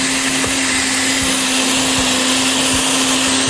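A blender purées chicken adobo sauce with cinnamon stick in it, a loud steady whir holding constant from start to finish.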